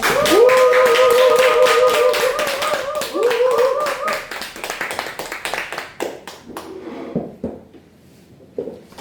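A small audience at a business presentation claps to welcome a speaker to the front. Brisk, close hand claps ring out over a sustained tonal background, then thin out and trail off into a few scattered claps near the end.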